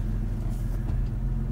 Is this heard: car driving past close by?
yes